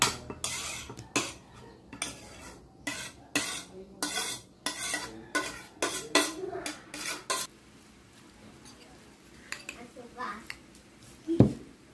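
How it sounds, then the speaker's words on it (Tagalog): Utensils clack and scrape against a bowl as arugula is tossed and mixed, a run of rhythmic close-up knocks that then fades into softer handling while someone talks. "Halo natin yung arugula."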